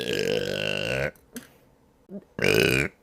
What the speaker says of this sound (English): I burp a lot also, that's part of the lore.